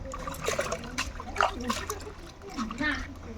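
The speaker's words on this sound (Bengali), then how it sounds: "এখন আমাদের মাছ ধোয়া চলছে মাছ ধোয়া" Water splashes and trickles as fish are washed by hand outdoors, a steady close spatter of small splashes with voices talking over it.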